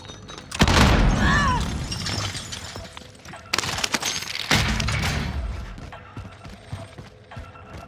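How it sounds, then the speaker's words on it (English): Grenade blast in Call of Duty: Modern Warfare: a loud close boom with debris, followed by a second burst of impact noise and fading rumble, without speech. "Contact! Throw a grenade!"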